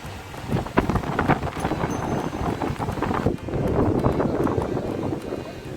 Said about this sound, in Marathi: हे असं हे मध्येच पाऊस लागतो अलीकडे